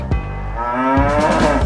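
A cow moos in one long, loud, close call that swells and holds steady, with no other sounds around it.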